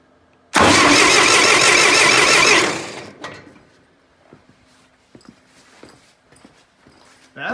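A Farmall 504 tractor engine cranks over on the starter for a compression test, a loud steady churning burst of about two seconds that cuts off abruptly, followed by quiet clicks and small handling noises.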